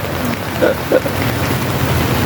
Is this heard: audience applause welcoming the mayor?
no